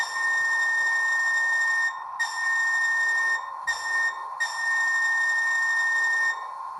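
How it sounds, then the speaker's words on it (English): A sound-equipped Athearn Genesis Southern Pacific C-50-8 model caboose gives a clear, steady air-whistle tone. It comes in four blasts: a long one, a short one, a brief one, then a long sustained one, all fairly loud against a quiet background. "We'll hear one more with the bell and the air whistle."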